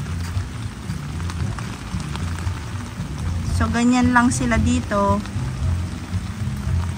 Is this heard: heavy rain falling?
yes